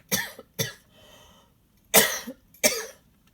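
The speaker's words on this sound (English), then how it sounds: "I'm going to cough." Four sharp coughs close to the microphone, two early and two later, with a faint breath between them.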